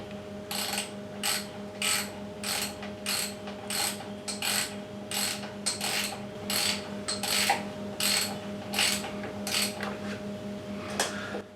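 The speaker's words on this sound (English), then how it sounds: "Then I'll tighten it down with my ratchet." A ratchet clicks in quick, regular bursts as it tightens a fork cap on a Triumph Bonneville T140. About a dozen short strokes sound close and crisp over a steady low mechanical hum.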